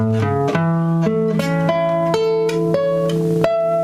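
Sustained keyboard-like tones, bright and steady, change through a series of stacked notes, a major chord built on scale degrees one, five and eight, with several quick note shifts at close range and no voice.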